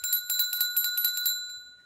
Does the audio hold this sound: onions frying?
no